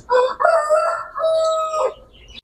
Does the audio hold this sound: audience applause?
no